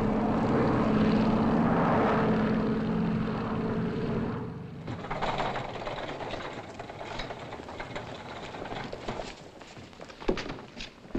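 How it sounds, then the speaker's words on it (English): A 1950s propeller airliner in its landing approach, a steady loud engine drone heard from inside the cabin that falls away partway through, leaving lighter rumbling and clattering. "We're in the landing pattern now."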